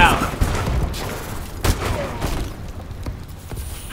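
Sniper rifle gunfire in Call of Duty, heard as several sharp cracks and booms from the match mixed with other game noise and a voice talking over it.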